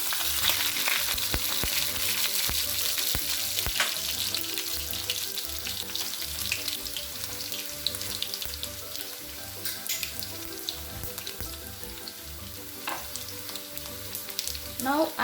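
Mustard seeds splutter and crackle in hot oil for Indian rasam, a dense steady sizzle with scattered sharp pops and occasional stirring, close and continuous throughout, no one speaking.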